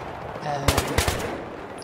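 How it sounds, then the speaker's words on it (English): Gunfire in Battlefield 3 on the Grand Bazaar map: a few quick sharp shots in a tight burst, set against steady game ambience with no talk over them. "Take a few pot shots at that guy."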